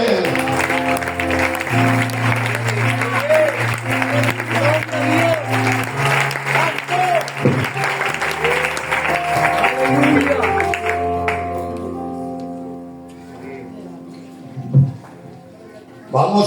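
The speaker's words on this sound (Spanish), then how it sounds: "Un aplauso para él." Applause from a church congregation during a Spanish-language Bible teaching session, a steady dense clatter of clapping with music and voices underneath, tapering off after about eleven seconds into quieter room sound.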